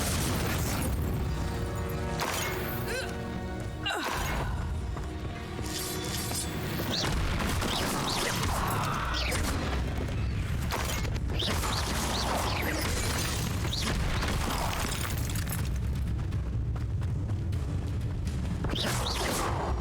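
Confringo spell explosions in the Hogwarts Legacy video game: a dense, continuous barrage of booming blasts and bursting impacts, loud and close, layered over busy combat effects with no pauses.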